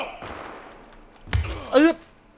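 Beryl 762 rifle fire in the shooter game World War 3, a short burst of close, loud shots in the middle, followed by a brief sharp effect, with faint speech-like sound before it.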